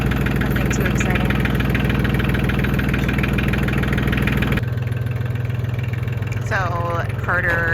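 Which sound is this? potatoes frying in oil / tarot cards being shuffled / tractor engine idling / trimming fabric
tractor engine idling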